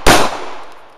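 One loud, close 9 millimeter gunshot with a sharp crack and a reverberant tail that fades over about a second.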